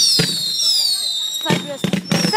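Whistling fireworks at an outdoor display shriek in a long sustained tone, broken by several loud bursts and crackles, while people talk nearby.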